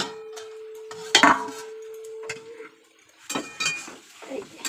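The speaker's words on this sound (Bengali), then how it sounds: "এইবার আমি ঢাকনাটা খুলে দেবো।" A lid comes off a frying pan of fish roe and vegetables with a clear metallic clank and rattle, followed by lighter clinks of cookware and a soft sizzle in a home kitchen.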